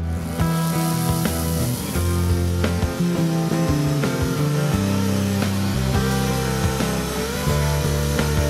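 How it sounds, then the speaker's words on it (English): Saw biting into a tree trunk for a felling cut while clearing a trail for a culvert pipe, a loud, continuous rasping drone with pitch shifts as the cut bogs and recovers, close by, with no talking. "Then the felling cut."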